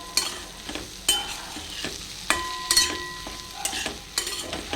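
Okra fries in oil with salt and goda masala, stirred in a pan: sharp spatula scrapes and clanks land every second or so over a continuous close sizzle, with no voices.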